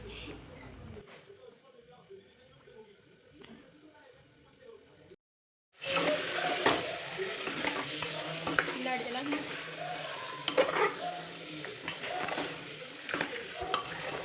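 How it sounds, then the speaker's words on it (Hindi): Potatoes and peas sizzle loudly in a pot of oil tempered with bay leaf, stone flower, black cardamom, black pepper, garlic and onion for tehri, a steady close crackle with stirring scrapes after a quieter start and a brief gap. "इसे मैंने तेज़ पत्ता, छबीला और बड़ी इलायची और काली मिर्च और लहसुन प्याज ये सब मैंने डाल के इसको बघार दिया था"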